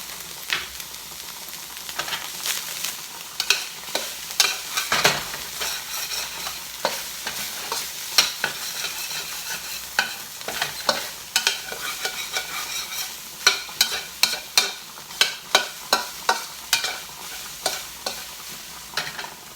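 Beef frying in a pan while being stirred, with a steady sizzle broken by repeated scraping and clacking strokes that quicken toward the end, close and fairly loud, no talking.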